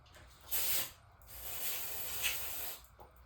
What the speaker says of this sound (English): A little spray carb cleaner.